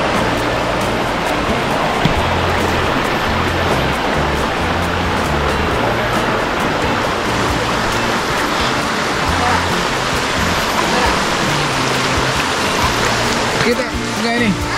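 A river flowing past Tent and Pegs Campsite in Port Dickson, a continuous rushing wash of water filling the whole stretch, steady and fairly loud, with voices talking beneath it.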